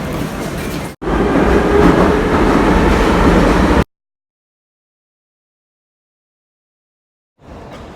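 A Kyiv metro train rumbles loud and steady for about three seconds, cuts to silence, then the rumble returns faintly near the end.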